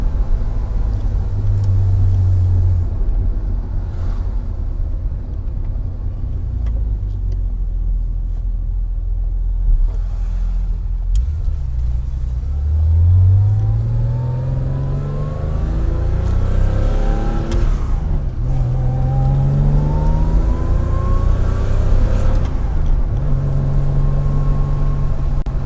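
A Porsche 911 on a test drive after a DIY suspension rebuild, smoking from the exhaust, gives a steady close engine rumble with several rising and falling rev sweeps as it accelerates and shifts, with no talking.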